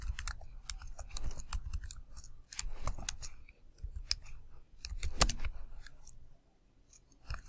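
Rapid clicking of keys on a computer keyboard while code is typed, coming in uneven bursts with brief pauses, fairly close and clear with no talk.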